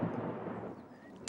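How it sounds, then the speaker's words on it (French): A cartoon sound-effect thunder rumble rolls low and steady for about a second, fairly loud and alone, ending in a brief noisy burst. "C'était le tonnerre"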